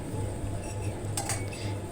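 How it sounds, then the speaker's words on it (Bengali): Chicken is stirred with spices in a pan, a low steady frying hiss under a quick burst of metal utensil scraping and clinking near the end. "এখন ভালোভাবে মশলার সাথে চিকেনগুলো আমি কষিয়ে নেব"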